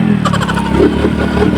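A trail motorcycle engine revs loud and close in a steady, sustained roar with a rising throttle pulse midway, no voices over it.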